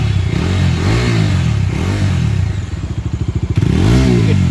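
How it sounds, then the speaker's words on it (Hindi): A 2021 Bajaj Dominar 250 motorcycle with dual-barrel exhaust, running close by, a throaty idle lifting into quick revs, with a rapid pulsing burble as the throttle drops, then rising again, no talking. "तो पहले हम आपको डोमिनार का साउंड सुनाते हैं।"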